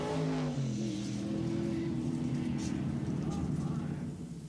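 NASCAR trucks, a Chevy and a Dodge, race for the lead at Colorado National Raceway, engines droning and revving under a commentator's voice, fading slightly at the end.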